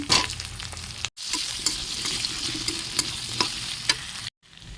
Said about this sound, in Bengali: আলুটা একটু ভাজা হয়ে গেলে ফুলকপিটা অ্যাড করে দেবো।